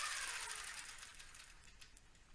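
A longarm quilting machine stitches along a ruler template on a quilt held in a frame. Its soft, quick motor whir and needle patter stay faint and brief, with no talking.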